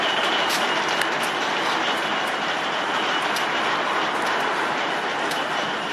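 An EMAC MX VLi locomotive shunting wagons at Barbará, a steady broad rumble of engine and rolling wagons with faint high squeals and clanks, continuous and fairly close.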